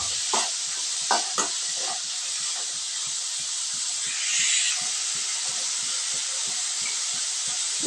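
Crushed onions sauté in a pan of hot oil for mor kuzhambu, with a loud, constant hissing sizzle close to the mic and a steady run of quick spoon taps and scrapes as they are stirred.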